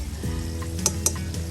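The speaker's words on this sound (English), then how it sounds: "it is difficult to fry the empanadas because I'm not deep frying them" Chicken empanadas frying in about an inch of shallow oil, a steady close sizzle with a couple of faint clinks from a pan or utensil.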